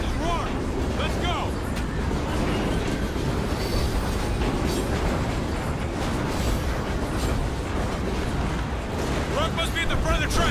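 Moving train in the video game Call of Duty: Ghosts, a steady loud rumble of wheels and rail clatter with occasional metallic squeals, under brief bits of talk.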